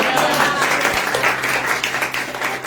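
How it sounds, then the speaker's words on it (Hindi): A church congregation claps during a Hindi sermon, a steady, close burst of many hands lasting a few seconds with voices mixed in. "कम ऑन, ताली बजाकर।"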